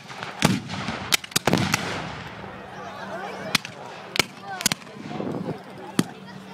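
Cannons fire blanks without cannonballs at a Civil War reenactment on Veterans Day, several sharp booming blasts sounding across an outdoor field amid crowd noise and distant talk.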